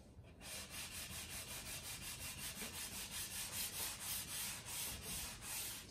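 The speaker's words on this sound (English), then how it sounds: "we're going to hit this with a 400 grit again" A Les Paul guitar body gets light sanding with 400 grit paper before primer, a close, steady, rhythmic back-and-forth rasp of quick even strokes that continues unbroken.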